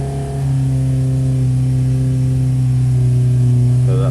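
A 1012cc engine held under load on a dyno, a loud steady mid-pitched drone that climbs slightly in pitch as revs rise, running alone and close.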